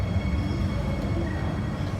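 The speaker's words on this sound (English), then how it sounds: "We've made it to Pudong Airport, where they have an in-airport train that we'll need to take to baggage claim." Inside an airport shuttle train at Shanghai Pudong Airport, a steady low rumble of the moving car fills the scene, with faint hum and wheel noise continuous throughout and no talking.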